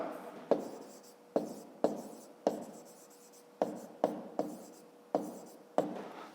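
Pen strokes on paper while working a school math exercise, a series of sharp taps and short scratching marks coming at irregular intervals, close and fairly quiet, with no talking.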